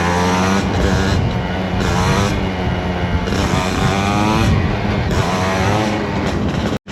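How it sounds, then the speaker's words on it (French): A motorcycle engine roars loud and close during a wheelie, a harsh buzzing rev that holds steady with slight pitch swells before cutting off abruptly at the end, with no voices. "On se fait un petit wheeling et on coupe."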